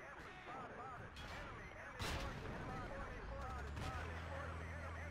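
Artillery fire in Battlefield 2 during a Conquest league match: a faint, busy battle bed with one sharp impact partway through and scattered cracks, under a caster's continuous talk.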